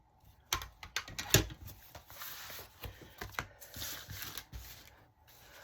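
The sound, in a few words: trimming paper for a folio journal insert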